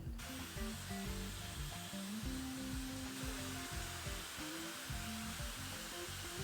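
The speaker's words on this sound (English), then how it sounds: "when I'm blow drying my hair, I'll be working the air upwards to create some volume at the roots" A hair dryer on low power and low heat blows steadily and close while hair is being dried upward at the roots, a continuous airy rush with no talking.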